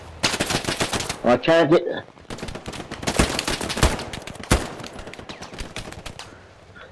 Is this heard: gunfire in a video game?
yes